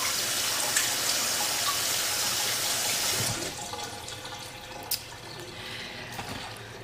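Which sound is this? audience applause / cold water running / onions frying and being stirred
cold water running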